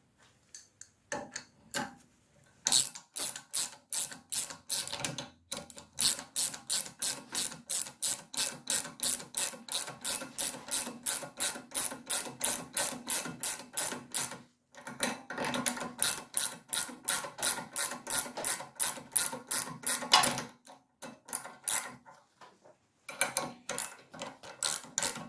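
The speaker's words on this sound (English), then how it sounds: "So I'll just stick with my ratchet spanner." A ratchet spanner tightens a bolt on the rear wheel carrier ball joint of a BMW 116, clicking in steady, evenly spaced strokes up close, with a few brief pauses between runs.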